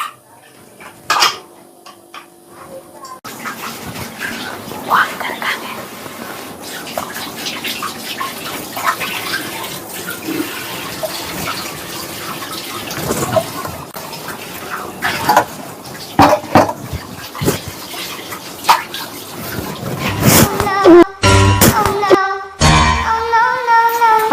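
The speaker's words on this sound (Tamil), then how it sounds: "பாத்து தண்ணி போயிட்டு இருக்கு பாரு, தண்ணி மூடுறி." Water runs steadily from a tap alongside clinking dishes and splashing, with scattered clatter and brief noises near the end.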